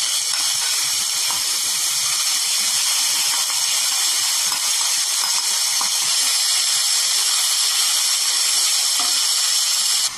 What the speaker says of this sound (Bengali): যেটুকু তেল রইলো লেফট ওভার, তাতে আমি এই কিমাটাকে একটু ভেজে নিচ্ছি